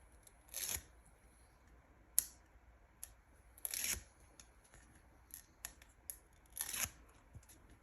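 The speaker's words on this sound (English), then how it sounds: "Pull off the paper." Backing paper is peeled off a piece of card stock during handmade card crafting. There are three soft, brief ripping peels, spaced a few seconds apart, with light paper handling and small clicks in between in a quiet room.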